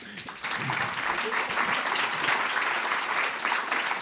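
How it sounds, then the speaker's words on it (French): Audience applause at a Montreal urban-affairs public talk, a dense, steady wash of many hands clapping that swells in after a brief quiet start and holds loud and even throughout, with no voices over it. "Alors, une bonne main d'applaudissements."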